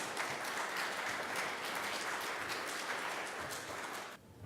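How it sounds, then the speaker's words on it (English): Sustained crowd applause at the close of the CSS2018LA event, a dense, steady wash of many hands clapping that continues evenly before cutting off near the end. "give yourself a round of applause"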